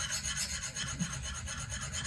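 A knife blade strokes across a 140 grit diamond sharpening stone as the burr tears off, making a quiet, close, repetitive scraping and rasping with a steady rhythm of short strokes.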